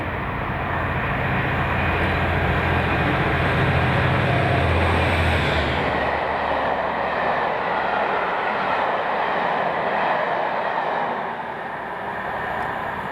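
A train passing at Cumbernauld, Scotland, a loud sustained rumble with a low droning engine tone in the first half, then broadband wheel-and-rail roar that eases slightly near the end.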